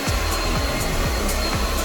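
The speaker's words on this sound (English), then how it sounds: "And then I go through with this blow dryer with the comb attachment, and I gently rake through my beard." Blow dryer with a comb attachment raked through a beard, a loud continuous blowing whir held close throughout, with faint rhythmic bumps as the comb passes.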